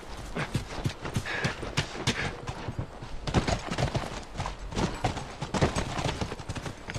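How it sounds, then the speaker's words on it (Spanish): Horse hooves clip-clopping steadily in the video game The Last of Us, a dense, loud run of rapid hoofbeats with no talk over it. "Vamos, volvamos a los caballos."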